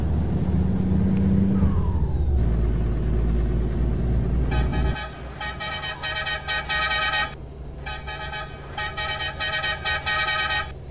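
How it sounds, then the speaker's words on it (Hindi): A truck horn in Euro Truck Simulator 2 on a small Volvo truck blares in a series of loud, sustained toots with short breaks, following engine rumble and a descending air-brake hiss. "हॉर्न आगे से शुरू होता है और एंड तक चलता है भाई, फ्लो कर रहा है हॉर्न"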